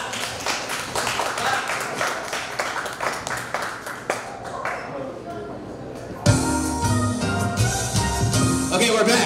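Audience at a live comedy show at a beer company taproom clapping, scattered taps building into fuller applause, with a voice talking over it.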